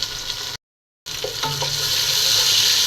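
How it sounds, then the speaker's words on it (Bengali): Spices, including ginger-garlic paste, green chili, turmeric, coriander, cumin and salt, fry in hot oil with a close, steady sizzling hiss, briefly cut off by a moment of silence before resuming with light stirring clicks. "মশলাটা তেলের সাথে কিছুক্ষণ ভাজা ভাজা করব"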